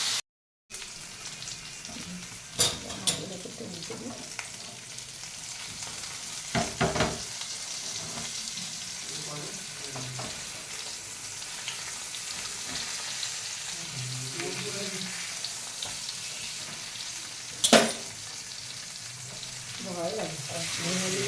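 Small live puti fish frying in oil in a pan, a steady broadband sizzle running throughout with occasional louder crackles and utensil clinks, no talking.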